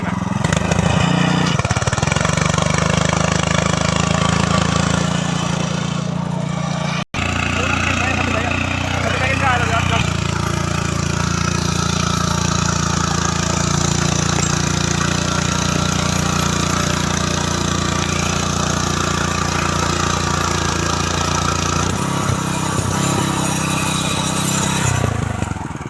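A power tiller's engine drives a back rotary through soil, a loud, continuous chugging drone that carries on near the microphone throughout, with a brief dropout early on.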